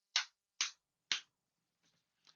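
Three crisp, evenly spaced hand claps captured through a Razer Barracuda headset mic with noise cancellation set to low, followed by faint scattered clicks and a soft rustle near the end.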